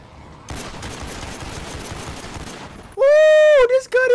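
Dense rapid gunfire from a gun in The Walking Dead: Survival Instinct video game rattles steadily for a few seconds, then a man whoops loudly.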